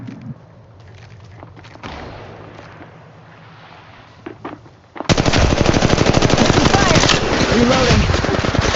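Rapid automatic gunfire from the Apex Legends video game, a faint stretch of game ambience and small effects giving way to a loud, dense burst of sustained machine-gun fire that runs to the end.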